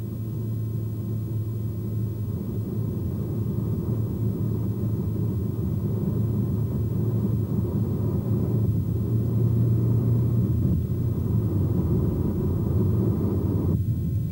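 An Aston Martin cruising at about 195 km/h on a concrete circuit, heard as a continuous low engine and road rumble with a steady drone that swells slightly midway, loud and unbroken, with no speech.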